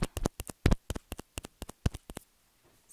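Fingers tapping and brushing against the left side of a Sony ECM-CS3 clip-on microphone, a string of sharp, close thumps and rubs in an uneven rhythm that falls quiet near the end.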